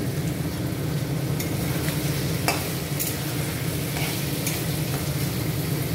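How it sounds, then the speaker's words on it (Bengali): Chicken kasha with green chillies being stirred in a hot pan, a steady close sizzle under continuous scraping and stirring strokes with a few sharper clinks of the utensil against the pan, no voices. "এখন সবগুলি মিশিয়ে নেব।"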